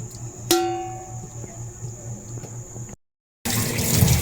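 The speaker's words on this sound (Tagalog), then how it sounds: "Nilalagyan na po yung ikalawang gata" Second coconut milk is poured into a cooking pot of water buffalo meat in coconut milk, a steady liquid stream near and moderately loud, broken by a short silent gap before resuming louder.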